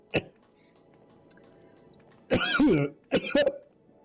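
Someone coughing after breathing in water, a short cough first, then two hoarse clusters of rough, close coughing separated by a brief gap.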